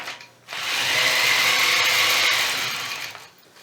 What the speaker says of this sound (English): we're going to begin by stitching a curve from point to point across the bottom